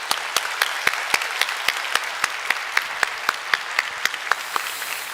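A church congregation at a Thanksgiving Sunday service claps in unison as an offering of thanks, giving sharp, evenly spaced claps in a steady rhythm over a faint background wash.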